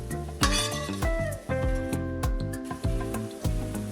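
Potato mochi patties fry in butter in a pan, with bright sizzling and a run of sharp clanks and scrapes as the patties are flipped hard, several distinct impacts over a steady crackle.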